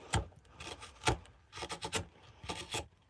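Spoon knife carving a live ash wood bowl, smoothing the surface out to the edge: a series of close, dry rasping scrapes in short strokes, some sharper than others, with no talking.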